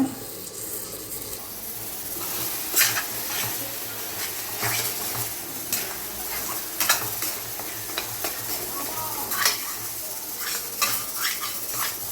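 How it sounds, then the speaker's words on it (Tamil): Onions and tomatoes sautéing in oil for egg gravy, a steady close sizzle under repeated scraping and stirring of a spoon against the pan, with no talking. "இப்போ இதுவும் எண்ணெய் பிரிஞ்சு வர வரைக்கும் நல்லா வதங்கட்டோம்"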